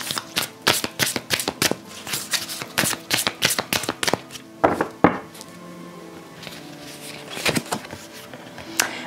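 Tarot cards being shuffled for a reading make a quick run of crisp riffling slaps and flutters. A brief pause follows, then softer shuffling and card handling. Everything sounds close and clear, with no talking.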